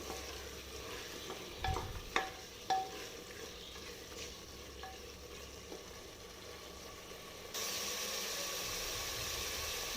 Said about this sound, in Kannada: ಇದೀಗ ಚೆನ್ನಾಗಿ ಫ್ರೈ ಆಗಿದೆ, ಸೈಡಲ್ಲೆಲ್ಲ ಎಣ್ಣೆ ಬಿಟ್ಕೋತಾ ಇದೆ